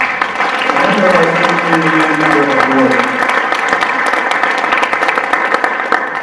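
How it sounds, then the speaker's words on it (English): Audience applause at an all-parent meeting on a school campus in Salt Lake City, a steady wash of many hands clapping that holds for several seconds, fairly loud, with voices murmuring and calling out over it early on. "Let's give him a big round of applause."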